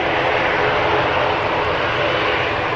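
A Turkish Airlines Airbus A330 jet departing Manchester Airport, its engines producing a loud, steady broadband roar that holds at full strength for the whole stretch.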